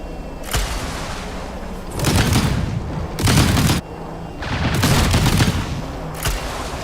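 Cannons fire in a video game, loud bursts of booming gunfire arriving in repeated barrages a second or so apart, dense and close with no talk over them.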